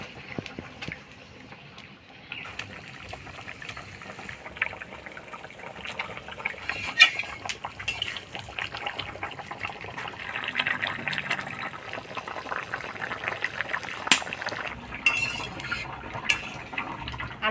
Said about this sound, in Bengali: এবার ভাজে রাখা মাছগুলা দিয়ে দিব।